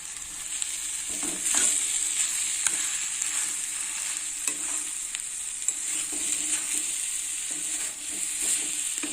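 Fish head frying with cabbage in a pan gives a steady, loud sizzle, broken by scattered stirring scrapes throughout.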